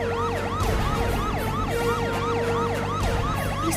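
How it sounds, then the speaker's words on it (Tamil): A police siren wails in a fast, repeating rise-and-fall pattern, loud and steady throughout, with a low engine rumble beneath it. "சைரன் சத்தம் கேக்குது."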